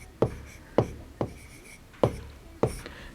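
Chalk or a marker taps and scratches a date onto a classroom board in five sharp, evenly spaced strikes, close and fairly quiet against a faint background hum.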